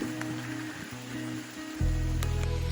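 Rain falls in dense woodland with a steady soft hiss of drops on leaves, and a deeper, louder rumble takes over partway through.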